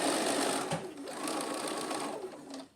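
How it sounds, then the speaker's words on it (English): A sewing machine stitches down a plastic pocket, its motor whirring close and loud in one continuous run with a brief dip near the start, then tapering off at the end. "And just stitch all the way down."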